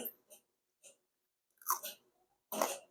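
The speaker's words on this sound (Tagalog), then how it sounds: "try natin Itong favorite ko na lechon kawali." Crunchy fried pork lechon kawali being bitten and chewed close up, a few separate crisp crunches and soft mouth sounds with a louder bite near the end, in quiet surroundings.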